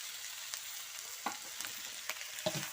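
Eel goes into a hot frying pan for a spicy stir-fry, crackling and sizzling steadily while a spatula scrapes and clinks a few times.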